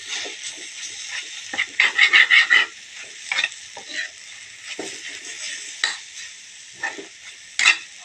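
Bitter gourd sizzles faintly in a pan, with a low steady frying hiss and several brief scraping clatters, as if from a spatula flipping pieces.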